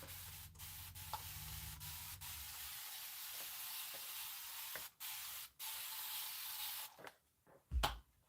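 Fabric being misted with a spray bottle before pressing: a long continuous hiss, then several short separate spritzes, close to the microphone and with no talk.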